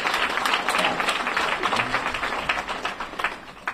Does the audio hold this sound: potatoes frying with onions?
no